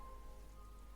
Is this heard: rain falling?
yes